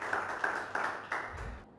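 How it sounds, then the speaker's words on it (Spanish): An audience at a Spanish-language Christian gathering claps for Jesus Christ: a handful of sharp, separate claps, spaced roughly evenly and fairly close, fading out at the end. "Tomen asiento y si pueden, denle un aplauso fuerte a Jesucristo, el Rey de Reyes y Señor de Señores."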